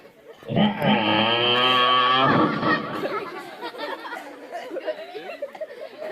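A man imitates a buffalo with a loud, drawn-out, low mooing call that lasts almost two seconds. Lively chatter and chuckling follow for the rest of the time.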